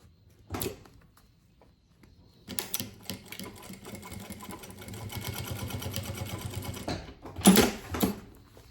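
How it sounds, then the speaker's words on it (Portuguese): A sewing machine runs a backstitched seam on a small bag strap: a brief burst of stitching, a pause, then a steady run of rapid needle clatter lasting several seconds, ending with a few sharp clicks and handling noises. "vou passar uma costura com retrocesso no início e no final"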